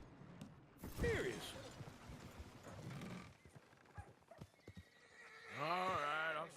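In the video game Red Dead Redemption 2, hooves clip-clop amid scattered clatter, then a horse lets out a loud, drawn-out whinny near the end.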